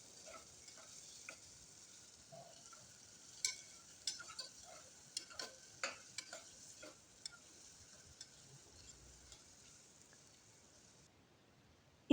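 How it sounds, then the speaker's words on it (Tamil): Onions and green chillies sauté in oil for a potato kurma, with a faint steady sizzle and a run of sharp spoon-against-pan taps and stirring clicks in the middle, with no voices. "இப்போ அதையும் நல்லா நம்ம வதக்கி விட்டுடலாம்."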